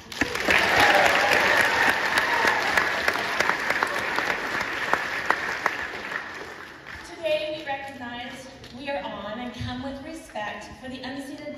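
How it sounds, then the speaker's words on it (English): Audience applause with cheering at a school Christmas concert, a dense broadband wash of clapping for about six seconds that thins out, followed by people talking. "Let's give a cheer for that."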